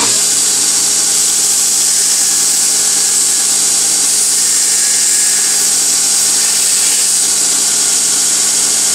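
A power sander with a finer grit runs steadily on a ball joint tension control rod mount in a workshop, a loud continuous high hiss and whir holding unbroken for the whole stretch with no talk.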